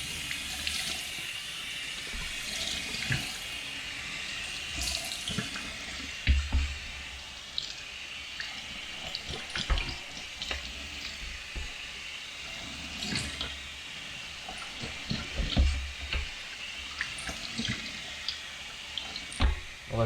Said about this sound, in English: I'm going to run some cold water over it to get some of the starch out